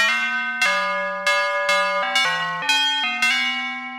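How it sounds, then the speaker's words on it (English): A Mutable Instruments nRings resonator module in single-voice mode is strummed about eight times, each bell-like metallic note ringing briefly before the next strum cuts it off, with pitches shifting up and down between strums. "if you strum the resonator, you can hear it play a note"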